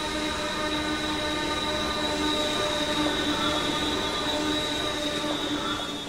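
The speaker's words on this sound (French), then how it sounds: "La fonte liquide est acheminée à l'acierie par des wagons ressemblant à des bouteilles" Railway wagons shaped like thermos bottles haul liquid cast iron from the blast furnace to the steelworks, a steady loud rolling rumble with sustained wheel squeal and ringing metallic tones.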